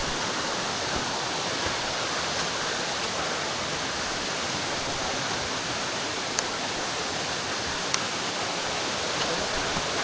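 Bigaw Waterfalls near Port Barton, a small falls reached on a land tour, pours in a constant, even roar of falling water, close and unbroken, with no voices over it.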